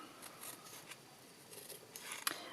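Scissors trim excess paper from the back of a handmade flower card, giving quiet, crisp snips in an uneven series, close and faint against a near-silent room.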